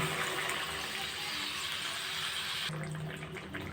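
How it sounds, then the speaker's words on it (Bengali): Water tipped from a small bowl into a cooking pot while preparing potato curry with lentil fritters, a continuous bright splashing pour that eases off near the end, with no one speaking. "ছোট এক বাটি জল দিয়ে দিলাম"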